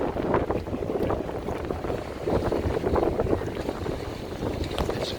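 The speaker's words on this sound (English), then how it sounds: "It's very windy. I hope you can hear me." Wind buffets the microphone on North Michigan Avenue in Chicago's Streeterville on a foggy, rainy day, a steady loud rumbling roar that continues throughout.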